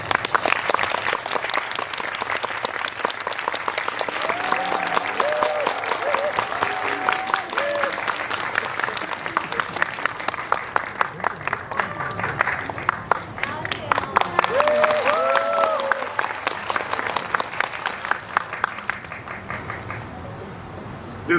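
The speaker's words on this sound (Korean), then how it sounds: "리볼버의 오승욱 감독님과 배우 전도연 씨를 큰 박수로 모시겠습니다" Audience at a film screening applauding to welcome the director and lead actress: sustained, dense clapping from a full room that carries on for about twenty seconds, with a host's amplified voice and occasional cheers over it.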